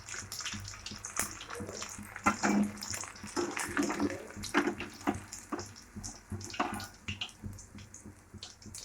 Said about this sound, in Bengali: লালচে লালচে করে ভেজে নিচ্ছি পুরো।